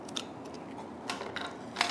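Scissors handled on a workbench beside a UV printer, giving a few faint, sharp metallic clicks and snips spread out over quiet room noise.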